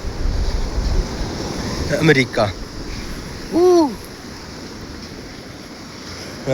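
Sea waves roll and break along a shore damaged by storms, wind rumbling steadily into the microphone throughout, with people talking briefly over the surf.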